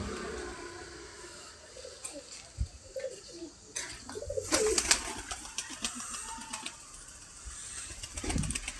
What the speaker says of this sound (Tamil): சூப்பர் புறாக்கள் தான், எல்லாமே பறக்கும்.